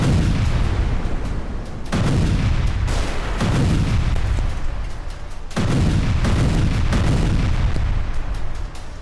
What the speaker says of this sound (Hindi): उसके बाद सामने आर्टिलरी से धमाके शुरू हो